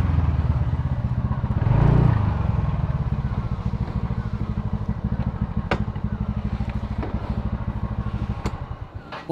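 A scooter engine putters steadily up close as it rides along a Himalayan mountain road, a low rhythmic idle-like drone with a brief rise in revving early on and occasional sharp clicks.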